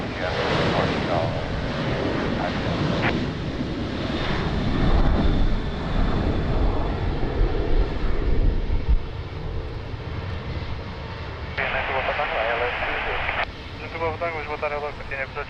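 A Ryanair airliner rolls out from runway 20 at Lisbon Airport with a loud, broad jet-engine roar that swells and buffets with wind, while radio voices of air traffic control talk over it in stretches.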